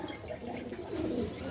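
Fancy pigeons coo softly in a loft, a low, steady murmuring with overlapping calls from several birds, continuous and moderately near.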